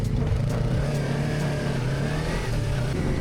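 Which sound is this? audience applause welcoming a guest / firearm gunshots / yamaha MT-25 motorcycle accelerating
yamaha MT-25 motorcycle accelerating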